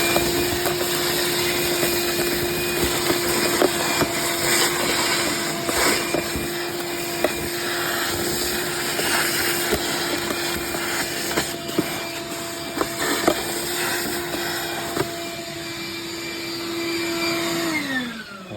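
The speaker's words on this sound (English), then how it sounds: "All right, we're gonna vacuum out all this crap" A vacuum cleaner runs continuously for a long stretch while sucking debris out of an Audi 3.2 engine bay, a loud, close, steady whine with a fixed high tone and small clicks and rattles of grit, winding down at the very end.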